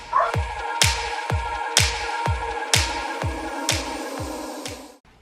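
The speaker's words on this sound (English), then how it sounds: "my dogs are barking" Dogs bark in a steady series of about a dozen short, sharp yaps at roughly even intervals, fairly near and loud indoors, with no talk, stopping abruptly at the end.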